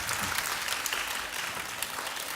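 An audience at a children's composition recital in a concert hall claps together in sustained, dense applause that stays even and fairly loud throughout, with no voices standing out.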